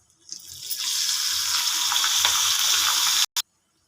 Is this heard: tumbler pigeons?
no